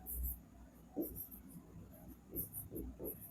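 Handwriting on paper while working a maths problem, soft scratchy pen strokes in short irregular bursts, close and very quiet over a faint high background hum, no voices.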